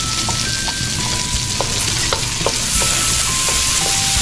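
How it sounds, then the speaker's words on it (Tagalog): Garlic sizzles loudly and continuously in a hot pan while a spatula stirs and scrapes it, making sharp metallic clinks at irregular intervals, with no one speaking. "Okay, lagay natin yung bawang natin. Ayan. Bilisan natin yung ating bawang."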